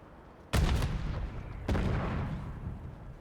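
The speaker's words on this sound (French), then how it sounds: "Je lance une grenade." Two sudden, loud grenade blasts in a video game, about a second apart, each a sharp boom that rumbles away slowly.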